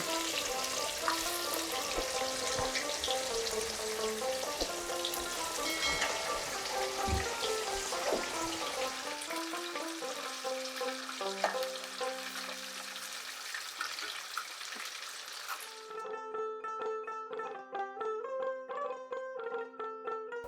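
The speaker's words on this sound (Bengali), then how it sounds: "মাছগুলো আমি ভেজে নিচ্ছি।" Pieces of katla fish fry in hot oil with a busy, crackling sizzle. The frying is soft and close, and the bubbling thins out partway through to sparser pops and spits.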